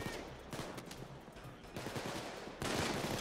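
Rapid gunfire in the heist shooter Payday 2, loud sustained bursts and fusillades that stop and start several times, with the heaviest volley near the end.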